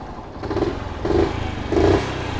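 A Honda Super Cub AA01 motorcycle engine idles with a rough, putting chug and revs up briefly three times in a regular rhythm, close by.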